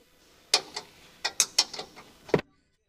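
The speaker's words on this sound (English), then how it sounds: "Here we have a 15mm wrench to tighten the ground bolt." A 15mm wrench tightens a ground bolt during a rock light installation, giving a series of sharp metallic ratcheting clicks and taps, about seven distinct hits spread over two seconds, close and clear in a quiet space.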